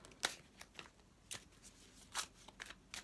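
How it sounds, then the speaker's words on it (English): Tarot cards being shuffled by hand in a quiet room, giving several separate bursts of crisp riffling and flicking at irregular intervals, close and fairly faint. "So I shall just give these cards a shuffle"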